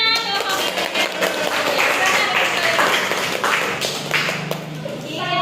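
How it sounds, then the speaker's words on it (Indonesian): A junior high class claps together in a sustained, dense round of hand claps, steady and fairly loud, with voices mingling underneath. "Tepuk tangan."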